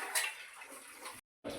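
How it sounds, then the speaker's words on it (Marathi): Water splashes steadily from a tap while taro leaves are rinsed, a close, faint rushing that cuts off briefly and then resumes. "आता मी लगेच पानं धुवायला घेतली"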